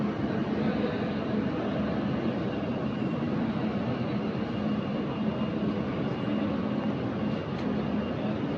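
Passenger airplane landing on a flight from Kerala to Kolkata, heard from inside as a loud, steady broadband engine roar that holds unbroken throughout, with no talk.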